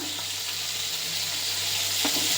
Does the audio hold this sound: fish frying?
yes